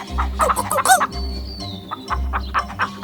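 Cartoon-style hen clucking comes in quick, loud bursts, then a sliding whistle-like tone, then more clucks, all clear and up close with no talking.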